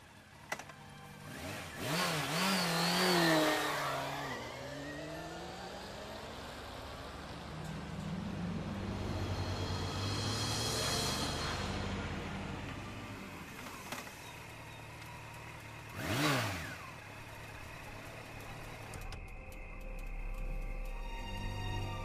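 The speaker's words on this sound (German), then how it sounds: "Motorrad. Na, dann nehmen wir das mal." A motorcycle engine in the video game Geheimakte Tunguska, revving up loudly near the start and then settling into a quieter, steady running drone, with another brief rev midway.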